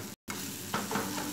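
Onion and tomato with spices for a chickpea curry sizzle steadily in a pan, a close hiss with soft stirring scrapes and a brief dropout near the start.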